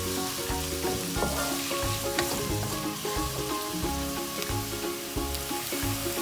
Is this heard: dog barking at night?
no